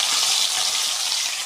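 Whole fish frying in hot oil gives a dense, steady hiss of bubbling fat, close and even throughout the short moment with no pops standing out and nobody talking.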